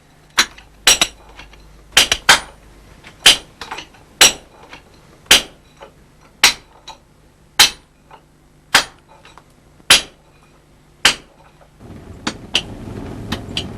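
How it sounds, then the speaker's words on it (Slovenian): Miners' hammer rings on a chisel against hard rock underground, a dozen or so sharp metallic strikes spaced irregularly about a second apart, clear and close. A low rumbling noise rises at the very end. "Za vrtanje pa sta uporabljala kladivo in dleto."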